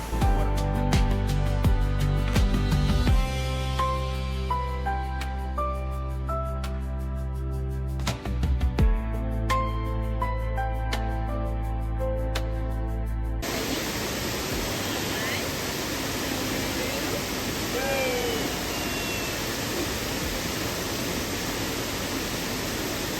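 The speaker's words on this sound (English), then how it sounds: "Waterfall. Waterfall." Music plays at first, then a waterfall on the Fiery Gizzard Trail takes over as a dense, steady roar of falling water, close and continuous to the end.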